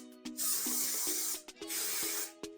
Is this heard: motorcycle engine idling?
no